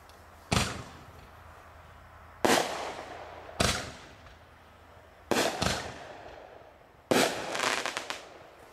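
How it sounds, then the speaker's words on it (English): Super bomb artillery shell fireworks bursting one after another, five sharp loud booms spaced a second or two apart, each with a short crackling tail over quiet outdoor background. "then we should have five more super bomb shells"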